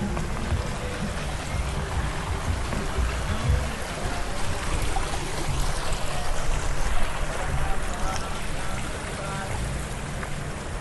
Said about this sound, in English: there's 1 million gallons of water a day that goes over this falls